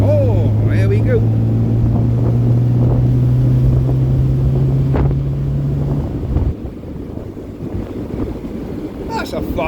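A 1967 MGB accelerating hard out of corners, its engine note droning steadily under wind buffeting before easing off near the end, with someone talking over it.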